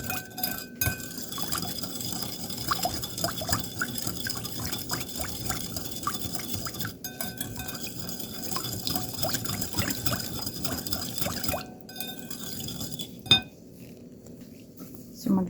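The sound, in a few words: stirring sugar into cooking oil to dissolve it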